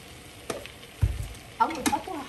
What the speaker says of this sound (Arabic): اول خطوه هحمر الدقيق مع الزبده حلو قوي لغايه ما يدي اللون الذهبي